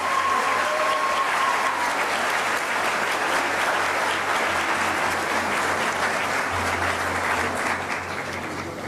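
A large graduation audience gives a loud, dense round of applause that rolls on steadily for the whole stretch before easing slightly at the end, with no speech breaking through.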